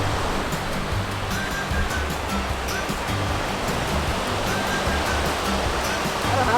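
Ocean surf breaks at a beach in Mexico, a loud continuous wash of waves churning close by for several seconds, with no talking.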